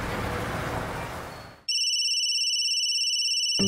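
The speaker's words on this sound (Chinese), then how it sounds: "夏主管，注意场合，手机要静音。" A mobile phone's electronic ringtone cuts in loudly outside a kindergarten gate, its bright repeating tones ringing steadily for about two seconds after a fading background murmur.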